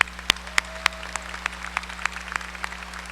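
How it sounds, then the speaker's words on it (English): Applause from an audience at a Texas A&M-Corpus Christi spring commencement ceremony, heard as faint, scattered claps over a steady hum in a large hall. "Let's give them a round of applause."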